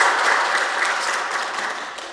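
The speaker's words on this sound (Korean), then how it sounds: "우리 박수로 한번 환영하도록 하겠습니다" A church congregation gives a short, steady round of applause to welcome a visiting young woman and a child, many hands clapping together at fairly close range with no speech.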